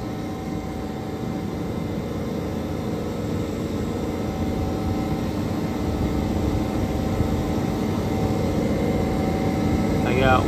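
The condenser fans of a cake freezer system run with a steady, loud, broadband whir and hum that holds unchanged throughout, with no break in the noise.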